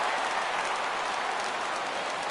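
A stadium crowd in a PS4 baseball game roars and applauds steadily ahead of a 3-2 pitch, a dense, loud, continuous wash of cheering with no clear breaks.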